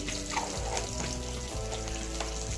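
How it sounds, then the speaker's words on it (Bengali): Dried red chillies and whole cumin dropped into hot oil, a dense crackling sizzle close by, with a couple of soft knocks and clinks of a spoon against the pan. "তেলের মধ্যে চার পাঁচটা শুকনো লঙ্কা ফড়নের জন্য দিচ্ছি চামচের এক চামচ গোটা জিরে"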